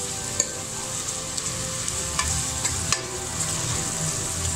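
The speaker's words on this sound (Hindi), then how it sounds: "इसको हमें अच्छी तरह फ्राई करना है ताकि लहसुन की स्मेल खत्म हो जाए।" Garlic frying in a pan over medium heat for a green bean and potato dish, a steady close sizzle punctuated by a few sharp stirring clicks and scrapes, no speech.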